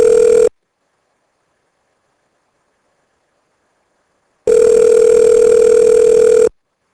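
Telephone ringing for a tech support call: two long electronic rings, loud and steady, separated by several seconds of silence.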